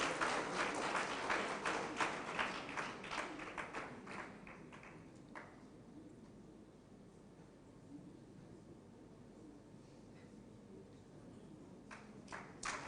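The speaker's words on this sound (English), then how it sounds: "Put your hands together as he's joining the stage" Audience applause greets a guest speaker taking the stage at a university challenge closing ceremony; the clapping is dense at first, then thins out to scattered claps and fades to quiet room noise, with a few late claps.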